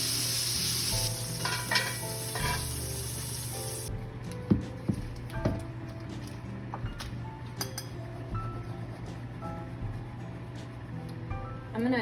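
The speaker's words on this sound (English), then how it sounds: "browned on all sides. This should happen pretty quickly." Meatballs browning in a pan for Italian wedding soup give a steady frying sizzle throughout, with scattered clinks and stirring knocks of a utensil against the pan.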